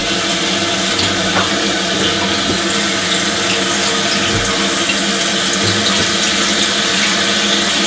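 Water runs steadily into a beer keg, filling it with about 2.5 gallons as a rinse and sanitizing step. The broadband gush stays constant and close throughout, with no voices.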